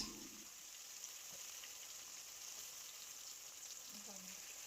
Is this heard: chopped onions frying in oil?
yes